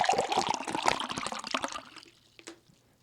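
Water poured into a cup makes a close, splashy gurgling stream for about two seconds, then stops, followed by a couple of faint drips and taps.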